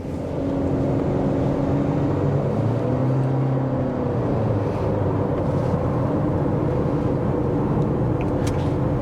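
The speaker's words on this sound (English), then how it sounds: "I do hear that engine" Steady low engine drone from a 2023 Honda CR-V 1.5T turbo with 2WD, heard from inside the cabin while driving in traffic, a continuous hum with no talk.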